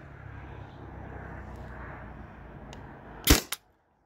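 Two sharp compressed-gas shots from a Byrna TCR launcher modded with a 20 oz CO2 tank, firing 3.6 gram nylon or 7.2 gram aluminum projectiles; a loud crack followed a split second later by a smaller one, over steady low outdoor background.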